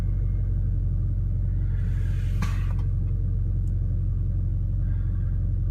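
The 2.2 liter turbo engine of a Chrysler Turbo LeBaron idles with a steady, loud low rumble close up, and a brief mechanical rattle rises partway through.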